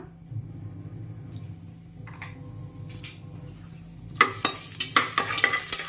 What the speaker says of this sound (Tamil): இது நல்லா பொரியட்டும்.